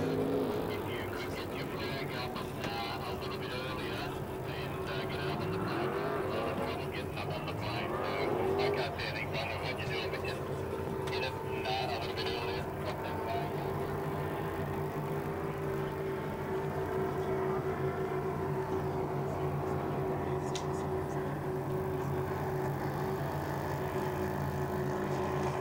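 Racing powerboats, including one named Chevy Chase, roar past at around 130 mph at the 2017 St George Powerboat Spectacular, a continuous distant engine drone rising and falling under race commentary.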